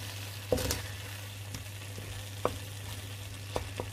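Leftover roast pork lechon being mixed into shrimp paste with chillies in a hot pan, a quiet, even sizzle under a low steady hum, punctuated by a few sharp utensil knocks and scrapes.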